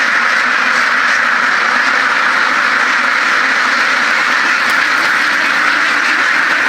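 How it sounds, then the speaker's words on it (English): Dense, continuous quacking from a flock of runner ducks, loud and close, overlapping without pause for several seconds. "They're a running duck."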